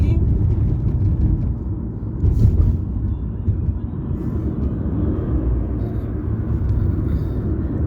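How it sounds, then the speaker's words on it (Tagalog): Street traffic in a busy Philippine town, a steady low rumble of cars, buses and engines close by, with one louder swell of a passing vehicle partway through and faint voices in the background. "Traffic na naman."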